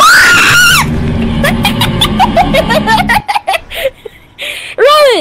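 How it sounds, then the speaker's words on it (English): A person lets out a long, loud, shrill scream of fright during a scary horror game, followed by rapid breathy giggling and laughter and another rising shriek at the end. "You have to put that scream in the video!"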